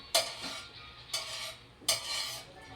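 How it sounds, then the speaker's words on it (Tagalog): Onion and garlic going into a hot pan for chicken adobo, heard as three quick scraping stirs of a utensil against the pan, each a short bright burst with a light sizzle between them. "kapag uminit na din siya ng masyado, lalagyan na natin yung sibuyas bawang"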